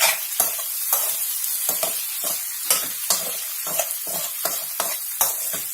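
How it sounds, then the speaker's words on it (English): Potato bhaji sizzles steadily in a pan while a spoon stirs it, giving repeated scraping strokes roughly every half second over the continuous frying hiss. "And again give this a very good mix."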